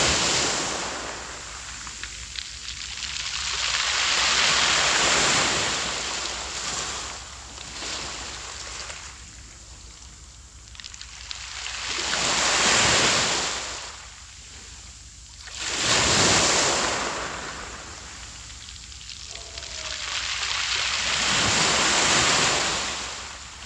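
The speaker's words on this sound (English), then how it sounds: "the rocks make this cool extra wave sound as the water trickles back" Waves wash in over size-sorted beach rocks at a rainforest shore near Sooke, each surge swelling then receding with a rattling trickle as water drains back through the stones, repeating in slow cycles under wind.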